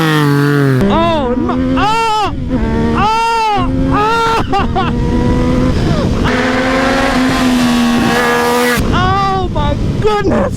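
A 2020 Yamaha MT-09 motorcycle engine revs hard and repeatedly, rising and falling in loud whining sweeps with brief drops between, close and continuous.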